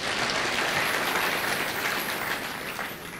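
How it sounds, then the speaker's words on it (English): A church congregation in Kiambu applauds the bishop, a dense, steady clapping from a large crowd that fades slightly toward the end. "So I would like for all of you to clap for our bishop."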